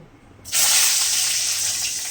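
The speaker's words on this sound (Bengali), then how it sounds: "ডিমগুলোকে ভেজে নেব" Eggs sizzling in oil in a pan for a spicy egg curry with capsicum and carrot; a sudden, loud, steady hissing sizzle starts half a second in and holds to the end, with no talk.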